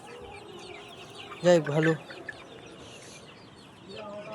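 Village chickens cluck in a short burst of a few calls, fairly close, with a voice speaking briefly in a quiet outdoor setting.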